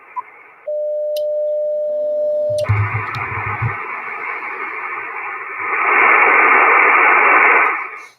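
A ham radio receiver tuned across the 10-meter amateur band near 28.445 MHz gives a steady tone, then a burst of low thumps, and a broad hiss of static that swells louder toward the end before cutting off.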